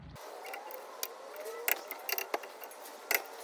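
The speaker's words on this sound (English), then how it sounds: "Just use your hand tools to get these snugged up." A hand ratchet clicks in short, quiet bursts while snugging the front caliper bracket bolts on a 2003 Honda Pilot during a brake and rotor job, with faint scattered clinks in a quiet garage.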